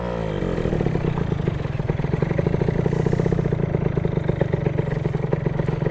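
Yamaha Jog CE50 scooter with a 70cc engine running steadily while being ridden, a loud, continuous buzzing two-stroke drone with rattling clatter and slight rise in revs, close and alone.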